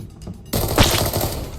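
Rapid automatic gunfire erupts in Arena Breakout after a brief quiet moment, a loud harsh burst of fast shots that keeps rattling to the end.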